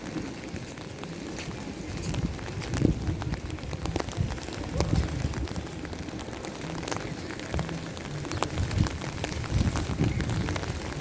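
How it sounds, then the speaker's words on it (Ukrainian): Steady rain patter on surfaces in Florence with a broad hiss, moderately loud and continuous, with faint scattered knocks and murmurs in the background. "бо тут дощ"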